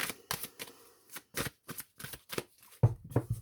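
Tarot cards being shuffled by hand in a series of crisp riffling bursts, roughly ten quick shuffles close to the mic, with a couple of slightly heavier riffles and taps near the end.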